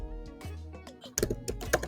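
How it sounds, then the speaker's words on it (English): Computer keyboard typing: a quick burst of sharp, close key clicks in the second half, following a soft tonal background with no speech. "So you just type in"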